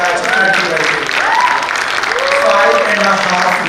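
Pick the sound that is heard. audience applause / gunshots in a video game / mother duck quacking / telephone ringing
audience applause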